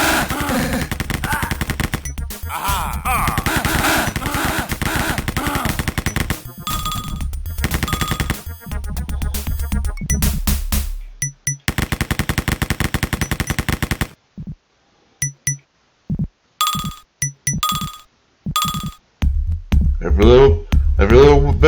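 Wolfenstein video game gunfire, with loud rapid machine-gun bursts and single shots in quick, irregular volleys, broken by short silences and overlapping game sounds.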